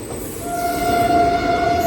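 An Intercity Superfast on the Bhubaneswar to Vizag route rolls out of Brahmapur station with a close, steady rumble, and a sustained high wheel squeal rings over it.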